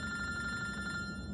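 A mobile phone rings with a steady electronic tone, sustained and fairly close throughout, with no voices.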